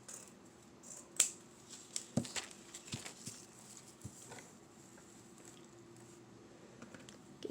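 Scissors snip through craft ribbon while making a wall sign or flower arrangement, giving one sharp close cut followed by a few soft rustles and taps in a quiet room.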